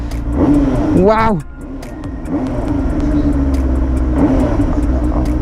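A Benelli TNT 600i inline-four motorcycle engine on its stock exhaust revs sharply up and drops back, then settles into a steady idle, with a man exclaiming over it.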